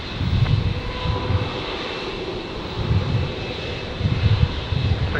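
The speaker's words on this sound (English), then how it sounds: "we got Rex 332 on final now. Coming in on 19 left" A Rex airliner on final approach to runway 19 left at Brisbane produces a rumbling engine drone with low pulsing throbs and a faint high whine, steady and moderately close.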